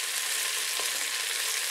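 Vegetables sizzle steadily in oil inside a pressure cooker while vegetable biryani is being made, a continuous, even frying hiss with no talk.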